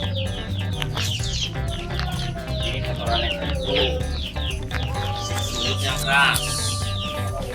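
A chicken being treated for a hard, impacted crop clucks and squawks nearby in short repeated calls while a person talks over it.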